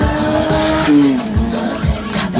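At a stunt show, a motorcycle drifts in long sliding turns, with a loud engine whine, repeated revving surges and tire squeal close by.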